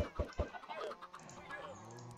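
Chickens cluck in a Minecraft-style video game after eggs are thrown, a few short clucks and thuds at the start followed by softer clucking and faint game sounds, close and clear.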